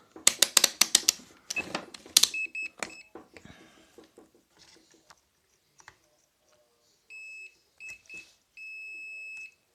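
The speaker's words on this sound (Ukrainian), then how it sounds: "Ось, ну, він пищить." Clicks and clatter of handling a device give way to a high, steady electronic beep in several short and longer bursts, close and clear, while testing a shorted diode in an Atom-160M power supply.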